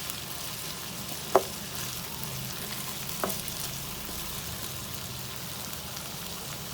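Diced potatoes and bell pepper fry in a pan with a constant crackling sizzle, broken twice by sharp utensil taps against the pan, close and without talk.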